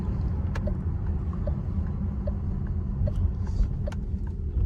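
Renault Megane E-Tech Iconic electric car driving on a road, a steady low rumble of tyres and cabin noise with faint ticks, no talk over it.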